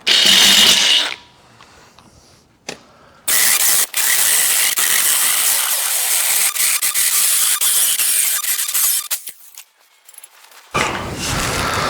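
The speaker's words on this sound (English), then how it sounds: "I'm gonna punch these holes out and then get my hearing protection" Drill with a 1/4 inch bit bores holes in a Jack Skellington costume piece, whirring loudly in a few bursts broken by short quiet gaps and clicks, close up with no talking.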